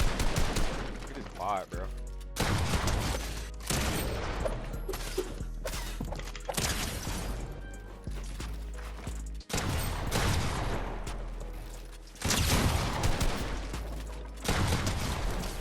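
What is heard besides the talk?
gunfire in fights from the video game Fortnite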